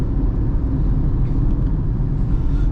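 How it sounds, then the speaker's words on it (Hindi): Tata Tigor CNG car running on petrol on a highway, a loud, steady low road rumble and engine hum heard from inside the cabin, with no talk over it. "ये मैं दबा देता हूँ और अब ये पेट्रोल पे शिफ्ट हो चुकी है गाड़ी। अब मैं इसको पेट्रोल पे चला रहा हूँ।"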